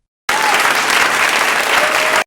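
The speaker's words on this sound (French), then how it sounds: "Applaudissons-le, s'il vous plaît." Loud, dense audience applause for a company CEO at a conversation-series event, a continuous burst of many hands clapping that starts and stops abruptly.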